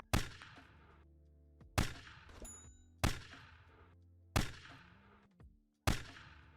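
Five sharp gunshots from a Unity first-person shooter, spaced about a second and a half apart, each a loud crack with a ringing tail that decays before the next.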